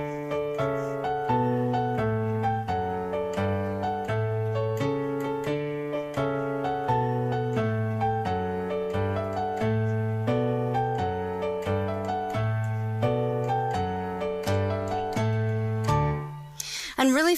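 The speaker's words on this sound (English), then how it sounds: "when you're playing both hands together, it should sound like this." Piano plays I Saw Three Ships with both hands: a bouncing bass line under a chordal melody in steady triple rhythm, full and close, ending with a final held chord and a brief noise at the very end.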